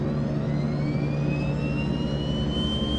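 Steady drone of the left engine on a DHC-6-300 Twin Otter turboprop in the FSX flight simulator, a continuous low hum with a faint rising whine, heard alone.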